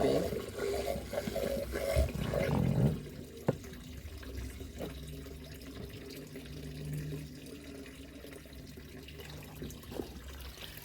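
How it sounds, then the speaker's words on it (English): A pond filter pump running at full power sends water flowing and splashing steadily, a loud rush at first that settles into a softer, continuous trickle with a few small drips. "I'm going to turn the pump all the way up and just see what happens,"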